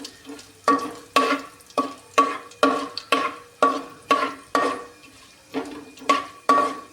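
Whole spices (cloves, cardamom pods and cinnamon) being stirred in hot oil in a pan, heard as about a dozen regular, close scraping strokes over a steady sizzle, with no talking.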